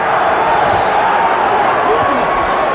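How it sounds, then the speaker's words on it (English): Dense roar of a boxing arena crowd at Tyson vs Holyfield, many voices yelling and chanting for Tyson, loud and continuous with no pauses. "Many yelling Tyson"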